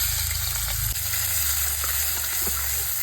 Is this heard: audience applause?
no